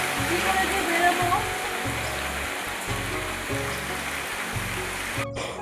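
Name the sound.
rain falling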